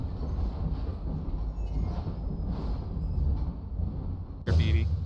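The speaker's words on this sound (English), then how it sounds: "The game starts off like the first one, on a train." A train ride in the video game Half-Life 2 aboard a train car with bullet holes: a steady low rumble of rolling wheels and carriage, ending in a sudden loud jolt or clatter.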